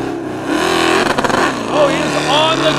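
A heavyweight off-road buggy with over 1,000 horsepower roars as it is driven hard, its engine revving and surging loudly, with a person talking over the noise.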